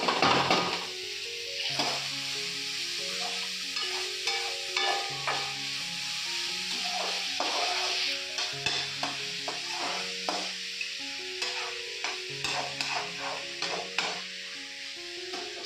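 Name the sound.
stir-frying capsicum and onion in a pan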